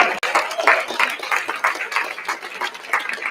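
Audience applause for keynote speakers at an evening banquet, a steady wash of many hands clapping for a few seconds, fairly close and unbroken, with no voices standing out.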